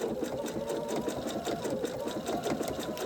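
A sewing machine stitching fusible appliqué through a quilt, running in a fast, steady mechanical chatter at close range with no pauses.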